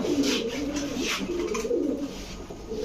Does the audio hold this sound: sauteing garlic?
no